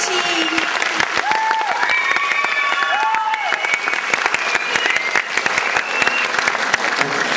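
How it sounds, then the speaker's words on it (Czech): Steady applause from a crowd, dense clapping throughout with some voices faintly audible beneath it. "patří jim velký potlesk"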